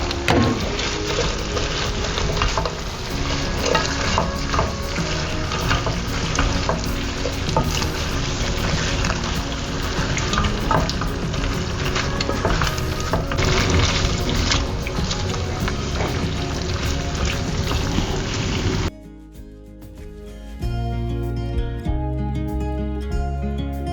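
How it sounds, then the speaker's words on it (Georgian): Chicken breast frying in a pan for an Asian-style dish with orange flavour, stirred: a loud, dense sizzle and hiss with frequent scraping and clattering, ending abruptly in a short quieter stretch. "ჩვენი გამზადებული ქათმის მკერდი უკვე უნდა მოვაქციოთ აი ამ ტაფაზე და შემდეგ ავურიოთ."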